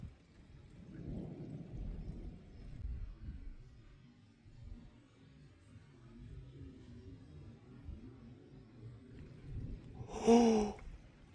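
Thunder during a heavy thunderstorm, a low distant rumble rolling through the first few seconds with faint rain, then a sudden sharp crack near the end.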